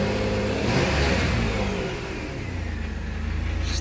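A 2000 Camaro engine fires up and revs, a mid-pitched roar that swells early and then settles into a steadier, lower run near the end.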